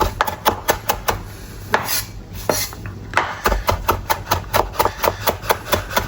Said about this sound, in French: On va le hacher.